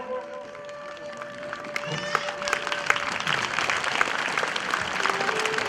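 An audience at a Patel community gathering claps to honour a guest, applause building from a few hands into a full, dense round of clapping, with some tonal sounds and murmur underneath.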